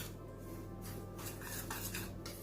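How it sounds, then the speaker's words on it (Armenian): A spoon scrapes and clinks against a bowl while flour, vanillin and sugar are stirred together, with quiet, close scraping strokes and light rattling across a couple of seconds. "ավելացնում ենք շաքարավազը և այս զանգվածը լավ խառնում ենք"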